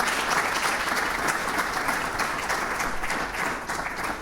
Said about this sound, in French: On va applaudir pour ces deux aînés avec nous.